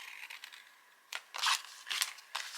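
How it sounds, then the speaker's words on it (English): Scissors cut paper along fold lines for a handmade Christmas gift box: a few short, crisp snipping bursts, close and fairly quiet, with no voices. "we're going to cut along one fold line and then another fold line"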